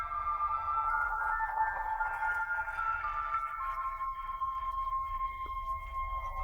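A gentle melody from The Legend of Zelda: Ocarina of Time remake plays in sustained, tonal notes over a soft low hum, steady and moderately quiet throughout.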